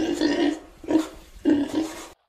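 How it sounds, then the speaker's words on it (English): Grunting pig noises from the video game Rec Room come in three rough, throaty bursts with short pauses between them, loud and close, then cut off abruptly. "There's an angry pig."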